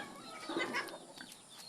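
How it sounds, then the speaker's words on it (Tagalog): Chickens in a neighbour's farmyard cluck in an agitated burst, several overlapping calls rising then thinning out, fairly close. "Yan, di ba nagkakagulo na yung mga manok?"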